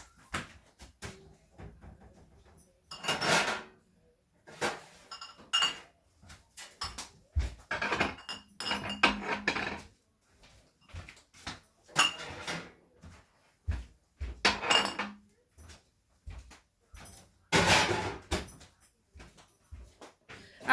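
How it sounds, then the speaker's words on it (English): Glass bottles grabbed and handled from a kitchen cupboard while making plum sauce: a run of close, irregular clinks, knocks and clunks with short pauses between them. "I'll just grab another 4 bottles."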